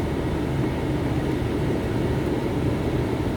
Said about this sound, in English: What was that? Oh, that's the plane.